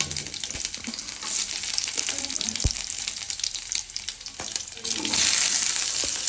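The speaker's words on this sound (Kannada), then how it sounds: "ಇದನ್ನ ಹಾಕಿ ನೀಟಾಗಿ ಫ್ರೈ ಮಾಡ್ಕೊಬೇಕು." Mustard seeds, cumin, garlic and onion sizzle and crackle in a hot pan for a lady's finger fry, with stirring scrapes and a louder burst of hissing near the end.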